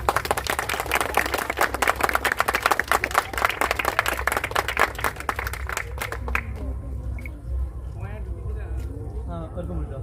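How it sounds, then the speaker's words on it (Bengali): A crowd claps at an Independence Day celebration where a garland is laid on a portrait of Bharat Mata, dense loud applause for about six seconds that stops abruptly, followed by people talking. "সবাই করতালি দিয়ে উৎসব করুন"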